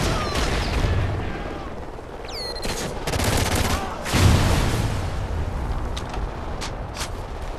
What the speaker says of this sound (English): Friendly Trinity rocket sound and inbound.